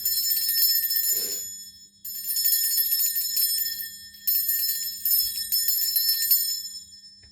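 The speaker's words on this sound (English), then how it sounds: "I am going to ring the bell that I have up here, one of these bells." A hand bell rings in bright, shimmering bursts, three separate rings with short gaps, close and loud, each trailing off in a metallic ring.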